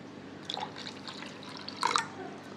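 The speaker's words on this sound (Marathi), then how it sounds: "घट्ट पातळ आपल्या सोयीनुसार पाणी घालायचं।" Water is poured into thick spiced buttermilk, giving two short liquid splashes about a second apart, close and fairly quiet, with no speech.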